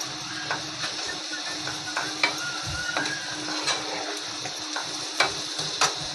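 Onion frying in oil in a pan on a gas stove, a steady sizzle with a few light stirring clicks and scrapes, close and moderately loud, with no voices.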